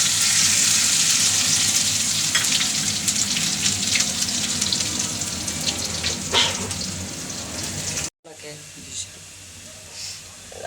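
Ginger fries in hot oil with a loud, steady hiss and crackle, which drops off sharply near the end and continues more faintly, while a voice speaks over it.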